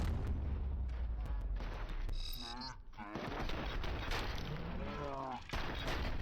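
Gunfire in a RoboCop video game crackles in rapid bursts of sharp shots under a busy mix of game sounds, with brief tonal effects sweeping through the middle.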